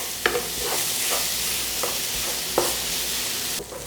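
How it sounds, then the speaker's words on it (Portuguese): Sausage frying in a pan, a constant close sizzle punctuated every second or so by the sharp scrape and tap of a utensil stirring the pieces, with no talk over it. "E a linguiça já está bem frita, já está bem soltinha."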